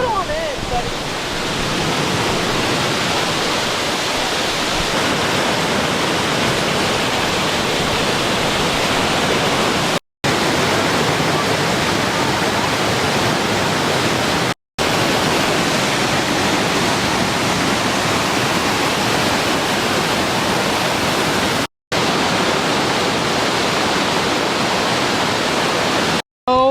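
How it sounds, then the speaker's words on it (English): A large waterfall roars as a steady, dense wash of broadband noise, loud and constant throughout, with a few brief cuts in the recording. "And now we're seeing a way bigger waterfall."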